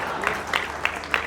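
Audience applause at a Hindi poetry recital, heard as a short, moderately loud wash of clapping with a few sharper bursts over about a second.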